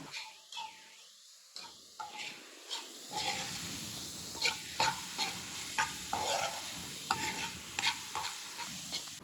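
Capsicum chicken sizzles in a pan as a spatula stirs it, a soft steady frying hiss broken by repeated scraping strokes and light clacks against the metal, close and fairly quiet.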